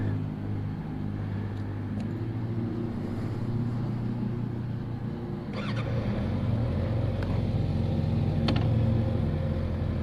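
A 2022 Kawasaki Ninja ZX6R 636 motorcycle engine runs steadily nearby, a low continuous idle hum that rises slightly partway through with light clicks.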